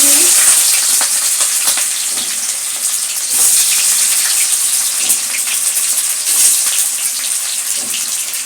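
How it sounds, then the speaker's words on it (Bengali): Bay leaf, a dried red chilli and onion hit hot oil for a spicy chicken curry. The result is a loud, close, continuous sizzle and crackle with brief sharper spits throughout. "এইবারে আমি এতে ফোড়নে দিচ্ছি তেজপাতার একটা শুকনো লঙ্কা পেঁয়াজ"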